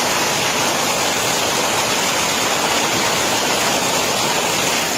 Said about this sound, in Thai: ฝนตกมาฝากจ้า